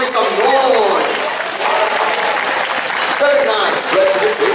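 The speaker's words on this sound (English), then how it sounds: "All you have to do is clap your hands and stomp your feet." An audience at a bird show in Jurong Bird Park claps and stomps, a loud, continuous wash of applause and cheering with voices mixed in throughout.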